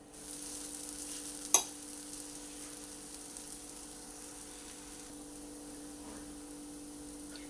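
Farali chilla batter cooks in a pan over a medium-low gas flame, giving a faint, steady sizzle with one sharp clink partway through. No one speaks.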